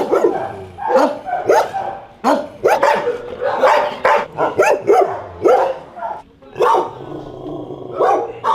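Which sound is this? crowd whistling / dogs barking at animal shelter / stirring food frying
dogs barking at animal shelter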